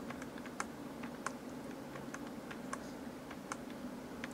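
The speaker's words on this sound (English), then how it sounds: "Oh no, now I'm redefining the keys again." ZX Spectrum keys being pressed while game controls are redefined: a soft, irregular run of light key clicks spread over a few seconds, close but faint, with no talking.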